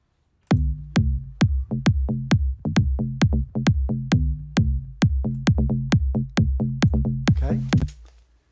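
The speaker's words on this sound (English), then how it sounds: "So we've mixed the kick and the bass." Kick drum and bass mix playing back in Ableton, a steady four-on-the-floor pattern of about twenty punchy, booming kicks with deep bass underneath, loud and alone.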